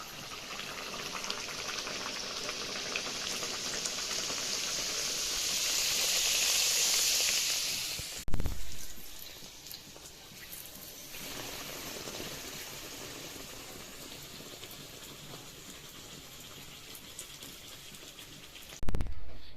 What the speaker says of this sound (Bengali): সব কচুরিগুলো একইভাবে সব ভেজে নিচ্ছি